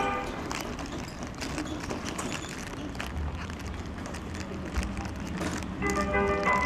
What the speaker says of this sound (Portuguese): O carro do Liquigás tá passando.